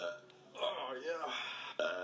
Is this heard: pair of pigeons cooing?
no